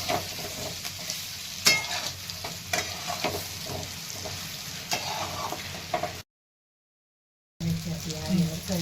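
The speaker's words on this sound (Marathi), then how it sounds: "आता ह्या फोडी टाकून घेते, छान असं परतून घ्यायचं" Ridge gourd pieces are stir-fried in a pan, making a close sizzle with spatula scrapes and taps. There is a brief stretch of dead silence before the frying resumes.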